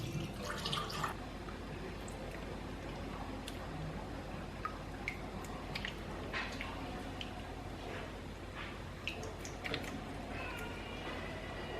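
Water trickles and drips into a dish while cooking in a home kitchen, faint and intermittent over a steady background, with a cat meowing and soft clinks nearby.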